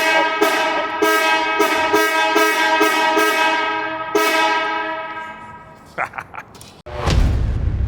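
A touchy car horn honks in a series of short repeated blasts, then one longer blast, followed by clattering handling noises and a rush of engine and road sound while driving.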